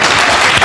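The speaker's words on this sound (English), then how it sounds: "So give him a round of applause." Audience applause for a speaker at a Gambian forum on social and mainstream media, a dense, even wash of clapping from a crowd that stays loud and steady through the short burst.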